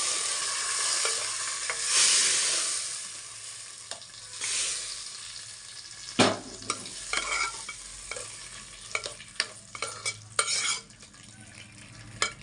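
A dal tempering of curry leaves frying in a pan for tomato dal gives a moderate sizzle, with uneven stirring and sharp metal clinks and scrapes from a spoon, louder in the second half.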